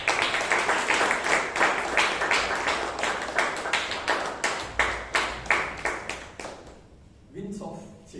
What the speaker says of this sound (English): Please give her a loud applause.